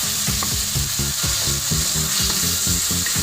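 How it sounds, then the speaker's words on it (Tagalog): Tomatoes sizzling and frying in a pan, with rhythmic stirring and scraping of a utensil against the pan, close and steady with no speech. "Lutuin lang natin ng konti ang kamatis."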